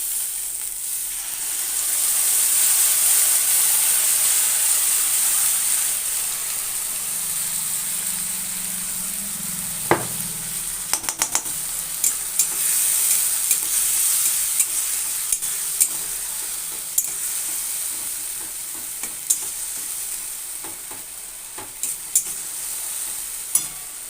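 Chopped onions and a ground spice mixture sizzle and fry in a pan while being stirred, with steady frying hiss and repeated scraping clinks of a spoon against the pan throughout, no talking.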